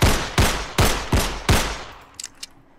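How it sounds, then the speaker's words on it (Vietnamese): Rapid gunshots from a handheld gun fired inside a train carriage in a video game: five loud, sharp reports at a steady pace, then a few small clicks as the firing stops. "Các bạn xả súng trên tàu"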